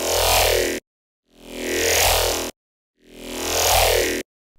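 Synthesizer patch with LFO-modulated resonance, three swelling bursts of noisy, filtered tone separated by silences, each rising and falling in a slow sweep, loud and alone.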